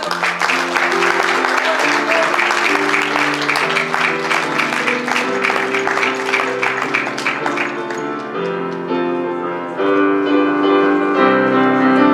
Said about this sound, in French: Une bonne main d'applaudissement pour Joanie Dubé